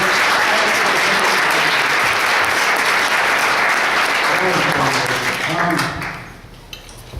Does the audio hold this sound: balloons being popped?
no